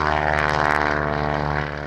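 A Beech Model 17 Staggerwing, a 1930s single-engine biplane, runs its radial engine with a steady, loud propeller drone and dense harmonic hum, sustained close by throughout with a slight fade at the end.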